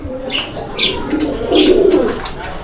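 Soft, low pigeon coos rumble close by, mixed with brief higher chirps and light rustling from the birds.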